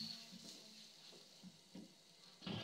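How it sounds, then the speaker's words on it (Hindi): Water splashed onto a hot iron tawa for dosa sizzles in short soft bursts, a few quick hisses and pops against a steady faint background, close and fairly quiet. "अब मैं इसमें थोड़ा सा पानी का छींटा डालूंगी"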